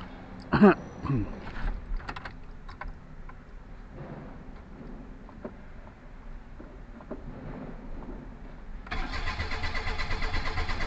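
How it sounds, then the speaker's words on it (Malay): A long-parked Perodua Kancil with a newly changed carburetor cranks and catches, starting with a burst of sound and then settling into a steady rough idle that rises into a louder, buzzy run near the end, close by. "Okay, dan kita try start tengok."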